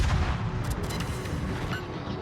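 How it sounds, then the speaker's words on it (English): Warship main guns boom in a naval battle video game, heavy low rumbling blasts rolling continuously across the clip, dense and loud with no talking. "Alright, we'll use the main guns"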